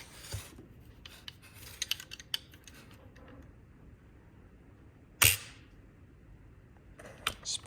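Flintlock hammer snapping against the frizzen of a Ketland trade pistol: one sharp, bright metallic crack near the middle of an otherwise quiet stretch, with a second, quicker strike near the end and a few faint clicks earlier.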